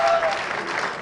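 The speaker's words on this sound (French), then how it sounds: "on applaudit Jean-Louis Mandingue" Brief audience applause for boxer Jean-Louis Mandingue, a short burst of crowd clapping with a faint voice or tone over it.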